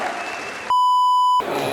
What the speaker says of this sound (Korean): 감사패를 수상한 감수에게 다시 한번 축하의 박수 부탁드립니다